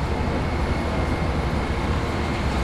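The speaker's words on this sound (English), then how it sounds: "Departing now, getting off the train." Steady, loud rumble of an Amtrak Sunset Limited passenger train near Houston, heard up close as a continuous low roar with no clear breaks or voices.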